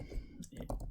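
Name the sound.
typing on a computer keyboard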